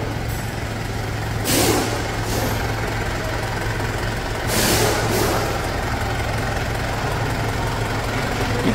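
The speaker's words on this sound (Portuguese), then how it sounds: "estamos escutando a melodia desse motor 4M41" A Mitsubishi Triton pickup's 4M41 diesel engine idles steadily with a low rumbling drone, close by and continuous, with a couple of brief hissing swells.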